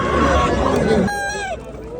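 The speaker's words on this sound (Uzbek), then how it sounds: "Xo'rozlar ham bor ekan." Chickens and roosters at a poultry market in Xo'jaobod cluckle and squawk close by, with a short rising and falling fowl call near the end, mixed into crowd chatter and people talking.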